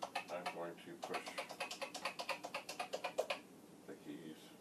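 Keys clack on the old PET-style keyboard of a Commodore VIC-20 being woken up after almost 40 years, a close, steady run of about twenty evenly spaced presses that stops near the end, leaving quiet room sound.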